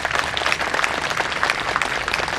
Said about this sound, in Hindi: एक बार उन सब के लिए भी दिल खोलकर ताली बजाकर अभिनंदन हमारे लायंस क्लब का